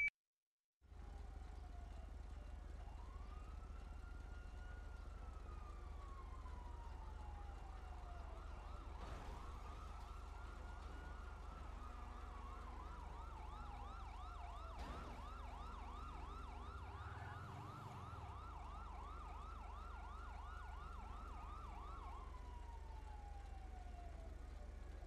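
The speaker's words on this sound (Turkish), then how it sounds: "Duyuyor musunuz sirenleri?" Wailing emergency vehicle sirens in a roleplay video game, rising and falling in repeated sweeps that quicken into a fast yelp, loud and continuous over a steady low engine rumble, with no talking.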